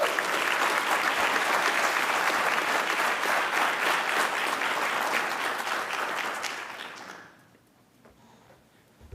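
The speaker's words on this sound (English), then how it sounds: "please join me in a round of applause for Second Lieutenant Mark Pereskia." Sustained applause from an audience at a spring ROTC commissioning ceremony as Second Lieutenant Mark Pereskia is honoured, loud and steady for about seven seconds before fading quickly to near silence.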